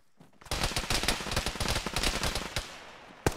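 Rapid bursts of gunfire from the military shooter ArmA crackle in a dense, close volley after a brief quiet start, the shots overlapping irregularly before a lull and one last sharp report near the end.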